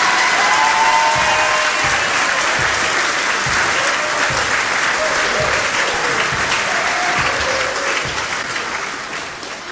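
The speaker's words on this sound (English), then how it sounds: "One more applause for our graduating seniors." Loud, sustained applause from a school gym crowd honoring graduating senior athletes before a varsity game, dense clapping with a few faint shouts that carries steadily for nearly ten seconds and eases off at the very end.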